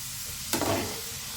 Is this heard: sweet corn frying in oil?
yes